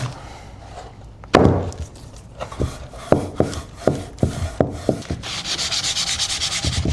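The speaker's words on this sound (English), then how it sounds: "I'm just going to clear wax where I stenciled it" Clear wax is rubbed by hand onto a stenciled area of furniture, a soft repeated scrubbing with several sharper rubbing strokes in a loose rhythm, close and fairly quiet, ending in a steadier rasping rub.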